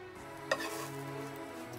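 Beaten egg mixture with mayonnaise and salt poured into a pan of hot salad oil, bursting into a loud close sizzle that settles into steady frying with a faint stir near the end.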